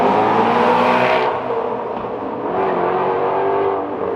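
A supercar engine revs hard near at hand, a loud rising roar that drops back abruptly after the first second, then settles into a lower, steady drone before swelling again, with no talking.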